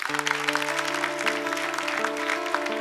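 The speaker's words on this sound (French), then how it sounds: "Je voudrais demander qu'on applaudisse pour ce monsieur." Audience clapping for David le combattant, a steady dense patter sustained throughout beneath sustained musical tones.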